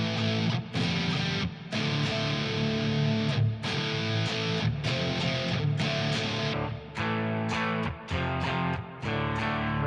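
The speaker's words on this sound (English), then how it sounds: "now I've got a deluxe reverb that I'm playing through." A distorted, effects-laden electric instrument plays through a Fender Deluxe Reverb amp with a freeze pedal, sounding loud and sustained with layered held tones and several brief dropouts between phrases.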